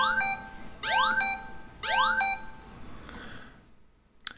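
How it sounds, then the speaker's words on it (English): An Android phone's emergency alarm plays three loud, rising electronic sweeps in quick succession, each a bright siren-like whoop, before fading into quiet with a small click at the end. "this is an example of what the sound is going to sound like"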